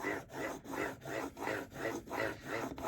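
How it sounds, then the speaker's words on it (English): Japanese chisel sharpened by hand on a sharpening stone, a steady rhythmic rasping scrape repeating about every half second in even up-and-down strokes, close and moderately quiet with no talking. "trying to keep the front of the chisel flat on the stone, and you just keep doing this"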